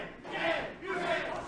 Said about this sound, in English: this capacity crowd getting behind Dangerous Dan Matthews. Chanting for Dan.